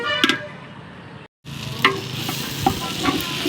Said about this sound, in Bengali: আমি কিন্তু এখন একটু জল দিইনি, সবজির জলেতেই ভাজা হয়ে যাচ্ছে।